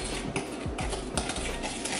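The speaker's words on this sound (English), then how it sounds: "And then stir." A spoon stirs instant coffee, sugar and warm water in a cup for dalgona coffee, giving quick repeated metallic clinks and scrapes in a fast rhythm, close and fairly quiet.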